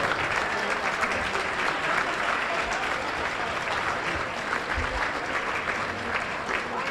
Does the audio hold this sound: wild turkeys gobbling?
no